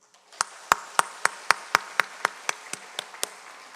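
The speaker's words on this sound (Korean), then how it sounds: "우리 다시 한번 박수해 주시기 바랍니다" A church congregation clapping together in a steady unison beat, about fourteen sharp, evenly spaced claps at a brisk pace, moderately loud with no talk.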